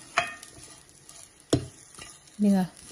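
Grated coconut with curry leaves and salt roasts in a pan over a faint sizzle, broken by three distinct scraping stirs spaced about a second apart.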